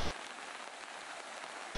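Heavy rain pours onto a road flooded knee-deep in Madiun, a dense, steady hiss of drops striking the water that stays loud and even throughout.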